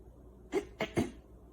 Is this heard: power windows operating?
no